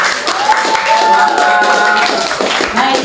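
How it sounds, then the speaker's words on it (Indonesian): Audience applause fills a school hall during a student council (OSIS) candidate debate at SMPN 1 Jayapura, a steady dense clatter of clapping lasting a few seconds, with voices mixed in. "berikan tepuk tangan."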